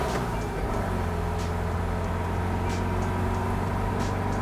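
A 1969 VW Beetle accelerating hard in a 0 to 60 run, a steady loud engine drone with rumbling road and cabin noise filling the whole stretch, with no voices.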